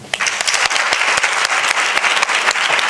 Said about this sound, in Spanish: espero que la aprovechéis y un fuerte aplauso